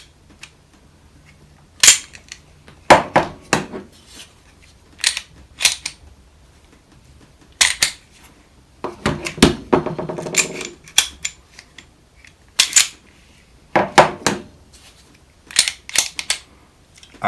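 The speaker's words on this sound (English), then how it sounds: "This is the easiest gun I have ever picked up to rack the slide on." A Smith & Wesson 380 Shield EZ pistol's slide being racked repeatedly, sharp metallic clacks and snaps in quick clusters separated by quiet gaps, close and loud in a still room.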